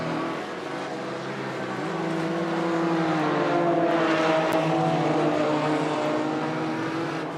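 A grey and orange Porsche Cayman race car drives past during a three-hour endurance race, its engine a steady loud drone that swells and sustains with shifting pitch.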